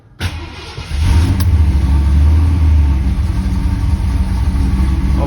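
A car engine cranks and catches, then settles into a steady, loud idle close by, warmed up on a roughly 80-degree day while an air-conditioning fault is being checked.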